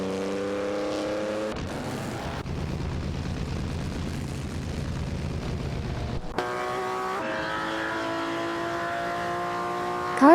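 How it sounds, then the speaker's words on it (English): Race cars in an AI racing video game roar past one after another, their engines rising and shifting in pitch. A steady drone fills the scene and there is no talking. "Car ND 162 driven by Suzanne Greenberg has impressively advanced to 5P, overtaking both Pillow Flame and Komodo 3K."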